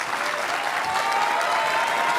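A television studio audience applauds on a French talk show, a dense, steady burst of clapping from many hands filling the room with no break.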